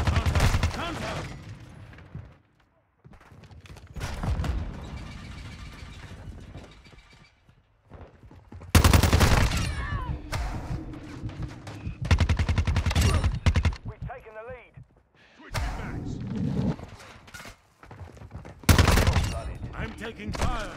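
Heavy bursts of automatic gunfire in Call of Duty Modern Warfare 2 (2022), loud clustered volleys separated by short pauses across the stretch, with shouted in-game voice callouts mixed in.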